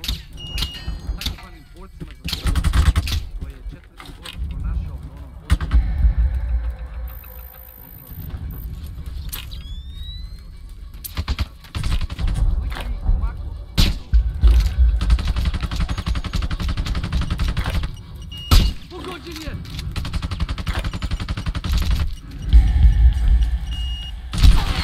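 Gunfire in the video game Sniper: Ghost Warrior 2, repeated loud bursts and shots over sustained game noise and music, with characters talking at times.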